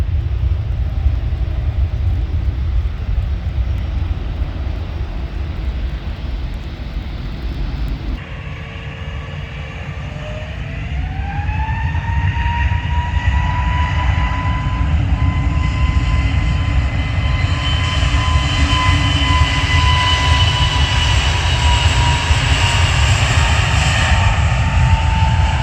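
A Jet2 Airbus A321 departs Manchester Airport in heavy rain, its engines roaring loudly and steadily and then rising in pitch as the jet spools up for takeoff over constant rain noise.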